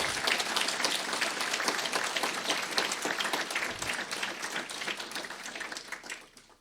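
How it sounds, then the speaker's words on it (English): Sustained audience applause at a speech event in Leduc, a dense steady wash of many hands clapping for several seconds before tapering off at the end. "Give them a round of applause."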